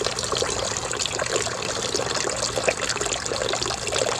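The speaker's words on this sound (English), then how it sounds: "So I'm getting clay water out of here" Muddy clay-laden water gushes steadily from a pump drawing on a freshly dug 40-foot backyard well, a constant rushing, splashing wash at moderate level with no voices.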